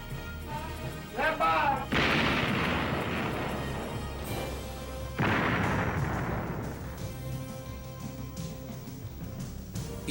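An Iowa-class battleship fires its huge main guns, two heavy booming blasts landing several seconds apart, each trailing into a long rumbling decay, with a narrating voice heard faintly at the start.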